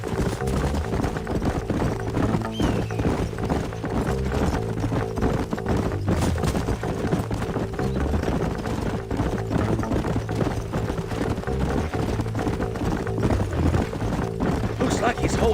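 Horse hooves clip-clop steadily and loud through the stretch in the Western video game Red Dead Redemption, a continuous galloping rhythm layered with game sound and dialogue voices.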